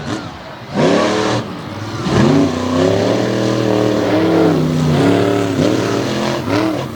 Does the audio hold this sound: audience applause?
no